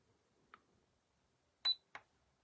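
A Stampin' Hot Foil System platform gives a couple of short, faint electronic beeps and clicks while heating, set against near silence.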